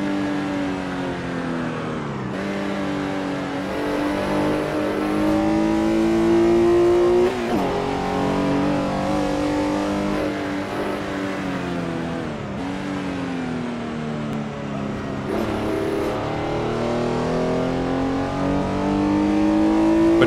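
A Porsche 906 race car's engine in the Assetto Corsa driving game, on a historic 1960s track. It howls close and loud throughout, its pitch climbing through repeated gear changes with brief dips between shifts.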